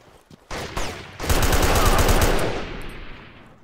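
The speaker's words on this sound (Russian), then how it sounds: "Еще и стреляет." Sustained burst of automatic machine gun fire in a combat video game, starting with a few scattered shots and then swelling into a loud, dense stream of rapid shots that gradually fades over a few seconds.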